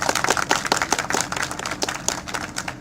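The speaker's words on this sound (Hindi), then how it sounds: "आप सबकी तालियां एक बार जोरदार बजनी चाहिए।" Crowd at an NDTV election event in Mainpuri bursts into loud, steady clapping, dense overlapping hand claps filling the room without pause.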